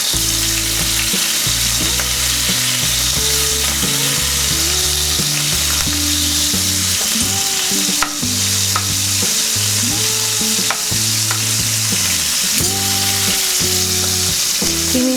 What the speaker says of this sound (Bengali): তেলের মধ্যে যখন ফ্রাই করে, চিংড়ি মাছের একটা সুন্দর রং চলে আসে।